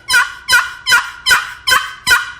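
A turkey box call, a wooden friction call, sounds six evenly spaced, loud, raspy yelping notes imitating a turkey hen, each a sharp scratchy burst about half a second apart, with no talking.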